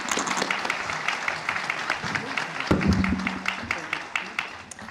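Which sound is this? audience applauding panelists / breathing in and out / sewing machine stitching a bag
audience applauding panelists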